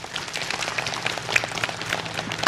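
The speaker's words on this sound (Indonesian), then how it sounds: "Tepuk tangan dulu." Audience applause during an Islamic talk show, with brisk, crackling clapping from a studio crowd that holds steady for a couple of seconds and ends in a louder burst.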